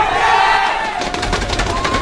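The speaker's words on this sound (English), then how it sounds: "Crowd goes wild." An arena crowd at a StarCraft II pro match erupts into loud, sustained cheering and roaring that stays dense throughout, close and overwhelming, with no distinct talk standing out.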